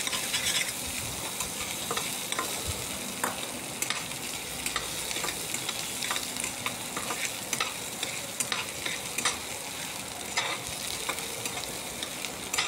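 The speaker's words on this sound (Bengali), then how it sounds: "কুচিয়ে রাখা পেঁয়াজ দিয়ে পেঁয়াজটাকে কিছুক্ষণ লাল লাল করে ভাজতে হবে।" Chopped onions sizzle and fry in a hot pan while being stirred, with steady crackling and repeated scraping strokes of the spoon close by.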